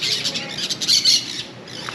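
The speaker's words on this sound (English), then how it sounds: "I can only hear the birds" Birds squawk loudly outdoors in Colombia, a cluster of harsh, closely spaced calls near at hand over a faint background.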